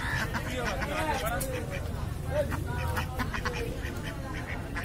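Ducks quack repeatedly at a busy outdoor weekly market in Madhyamgram, their calls mixed with constant crowd babble and someone talking nearby.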